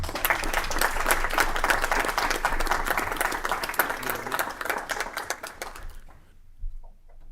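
An audience at a legislative committee meeting gives a round of applause for a Sergeant First Class, steady clapping filling about six seconds before stopping abruptly.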